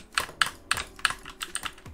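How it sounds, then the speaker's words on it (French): Typing on an Action gaming keyboard, a fast run of crisp, close key clacks in an uneven rhythm, alone with no voices. "Mais c'est juste pour tester le clavier surtout."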